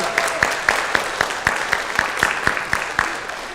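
At a school speech contest, the audience claps for the finalists in a steady, evenly spaced rhythm, about a dozen distinct claps at a moderate, even level.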